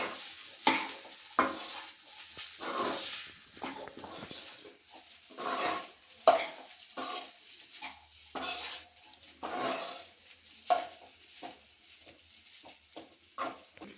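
Vegetable fried rice tossed and stirred in a pan, with a steady run of spatula scrapes, metal clanks and soft sizzling repeating close by for the whole stretch, no voices.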